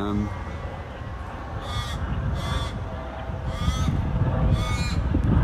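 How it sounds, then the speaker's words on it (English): Crows caw repeatedly in loud harsh bursts at Scarborough Beach, Australia, four or five calls spaced over a steady outdoor rumble with a voice faintly underneath. "the birds are being noisy, all right"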